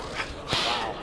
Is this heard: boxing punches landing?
yes